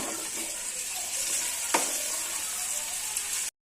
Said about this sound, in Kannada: ಗೋಲ್ಡನ್ ಕಲರ್ ಬರೋವರೆಗೂ ಚೆನ್ನಾಗಿ ಫ್ರೈ ಮಾಡಿ